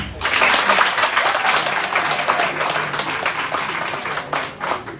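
An audience at a ceremony in Côte d'Ivoire applauds loudly and cheers, a dense, steady wash of clapping that runs for several seconds with voices mixed into the crowd noise.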